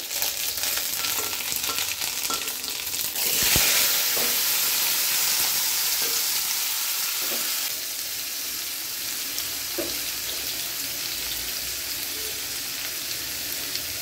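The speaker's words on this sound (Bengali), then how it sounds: "তেলটা গরম হয়ে গেছে, এবার আমি সবজিটাকেও ছেড়ে দেব।" Pumpkin and potato pieces sizzle and crackle as they hit hot oil seasoned with five-spice tempering, with a sharp clatter as the vegetables go in, then a steady frying hiss and occasional stirring.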